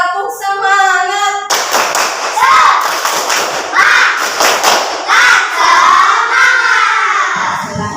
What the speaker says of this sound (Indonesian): Ulangi sekali lagi. Tepuk semangat.